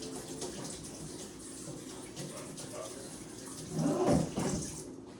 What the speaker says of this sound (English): I'm literally just gonna pour it in the sink